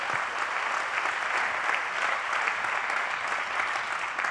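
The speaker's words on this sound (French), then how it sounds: "Applaudissements pour eux, s'il vous plaît." Steady, even applause fills a conference hall at a product launch event, many hands clapping at a consistent level for several seconds with no pauses.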